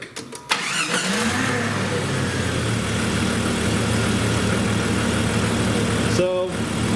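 A Jeep ZJ with a 4.0L engine cranks and starts, a brief starter whir giving way to a steady, even running drone close by, with a short voice briefly over it near the end.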